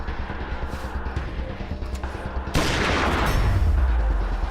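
Gunfire in Wasteland 2, a few muffled, scattered shots that give way to a loud, sustained fusillade with a deep rumbling tail.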